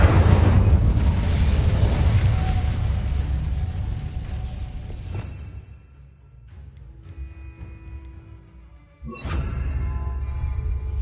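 Incendio fire spell cast in Hogwarts Legacy on PS5, a loud roaring burst of flame that fills the first five seconds, fades into quieter clinks and mechanical tones, then a second sharp whoosh erupts near the end.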